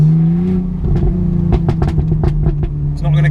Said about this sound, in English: That Golf R is loud.